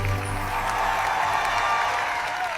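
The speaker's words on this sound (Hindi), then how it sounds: "तालियां गूंज उठी।" Applause from a crowd fills an echoing hall at a princess dress contest in a told story: a dense, steady wash of clapping with a low tonal hum beneath, fading slightly near the end.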